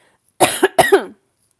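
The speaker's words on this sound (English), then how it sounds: "I'm going to cough again" A person coughs twice in quick succession, close and fairly loud, followed by silence.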